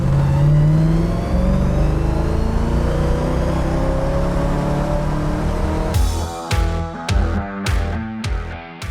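A 1958 Corvette with its base engine, heard up close, is wound up to 5,000 rpm. A rising roar climbs steadily in pitch, then drops into several sharp revving bursts with gaps between them.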